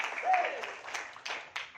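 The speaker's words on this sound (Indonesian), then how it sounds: "Tepuk tangan yang paling meriah, katakan yes" Congregation clapping at a Sunday worship service, a moderate swell of applause that fades into a few separate louder claps, with voices mixed in.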